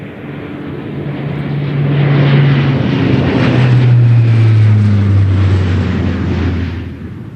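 A C-130 flies low and southbound at 250 feet over the northern part of the McConville Loop. Its loud, droning propeller roar swells to a peak mid-pass, then slowly fades as it moves away.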